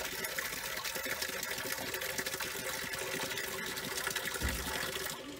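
Water from a drinkable well fountain in the mountain village of Hasroun, North Lebanon, runs steadily as a continuous close splashing stream without a break.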